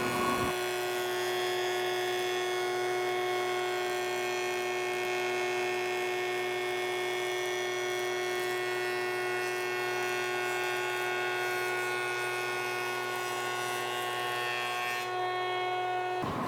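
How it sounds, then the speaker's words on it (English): A woodworking jointer runs steadily while planing the edge of a board, giving a constant close motor hum with a tonal whine that holds evenly for about fifteen seconds before cutting off. "we need to clean up one edge on the joiner"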